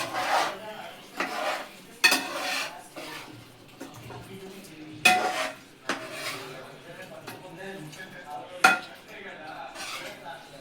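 A spoon scraping and clinking against a pot while stirring chicken curry with spice powder, several sharp metallic knocks spaced irregularly among softer rubbing strokes, close and moderately quiet.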